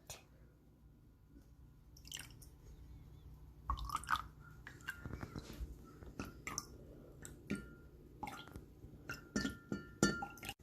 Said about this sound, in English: Then put some water on top of it.